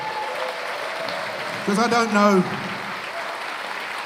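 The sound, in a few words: studio audience applause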